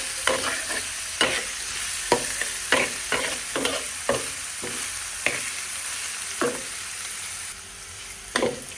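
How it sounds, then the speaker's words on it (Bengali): Boiled pointed gourd peels frying until brown, a constant sizzle punctuated by a dozen sharp scraping stirs of a spatula against the pan at uneven intervals, no speech. "আমি এটা একটু সুন্দর কালার আনার জন্য একটু ব্রাউন কালার করে ভেজে নেব"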